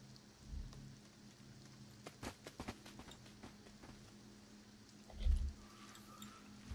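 Steady rain in The Sims 4 patters softly throughout, with a few sharper clicks and a low thump near the end, no voices.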